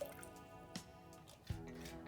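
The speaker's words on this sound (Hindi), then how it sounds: "टब में मैंने गर्म पानी ले लिया हुआ है और इसमें मैं एक ढक्कन हाइड्रोजन पेरोक्साइड के डालूंगी।" Hydrogen peroxide goes from a cap into a tub of warm water, giving a few quiet, sharp splashes and drips against faint background hiss.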